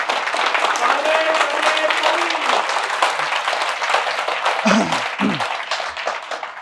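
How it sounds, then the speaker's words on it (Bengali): An audience at an entrepreneurship seminar applauds steadily as a speaker is welcomed onto the stage, dense clapping filling the room from start to end, with a few brief murmurs near the end. "তো সবাই একটু রিচকে ওয়েলকাম করেন স্টেজে হাততালির মাধ্যমে"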